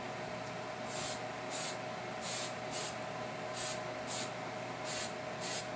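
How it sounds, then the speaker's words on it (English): Super Hold hairspray is sprayed onto the body of a model railroad tree in about ten short hissing bursts, one after another at a steady pace over a low background hum, with no talking. "take the Super Hold hairspray and spray just the body of the tree"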